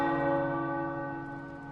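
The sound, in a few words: church tower bells ringing in Marvel's Midnight Suns video game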